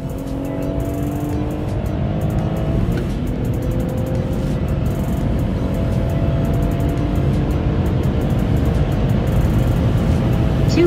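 A BMW M140i with the B58 engine and six-speed manual gearbox accelerates hard at speed on a 100–200 km/h run, a loud droning engine note rising steadily in pitch under heavy road and wind noise.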